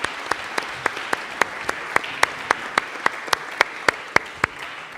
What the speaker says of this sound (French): je vous propose de les applaudir, tous les intervenants et réactants pour cela.